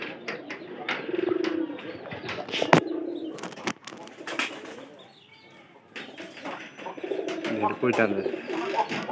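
Pigeons coo repeatedly at close range in soft rounded calls amid rustling and occasional wing movement, with someone talking intermittently over them.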